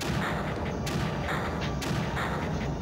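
Gun turret firing in the strategy game Creeper World, a run of booming shots repeating at a steady rhythm of about one per second over a continuous rumbling game background.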